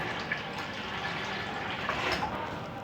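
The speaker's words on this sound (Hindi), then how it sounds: "इसमें अब हम एक जग भर के पानी का शामिल कर देंगे।" Water poured from a jug into a spiced paste for kadhi pakora, a steady close rushing and splashing that holds evenly for about three seconds, with no voices.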